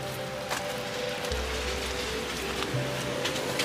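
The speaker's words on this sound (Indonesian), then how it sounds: "Salju turun dengan hujan." Steady rain falling mixed with snow in spring in Russia, a dense continuous patter with faint low hum underneath and no voices.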